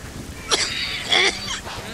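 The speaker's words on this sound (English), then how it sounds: "Sorry about the coughing, folks." Coughing from a person playing a night-time, rainy survival horror game, heard as two or three short harsh bursts, fairly close, over a faint steady background.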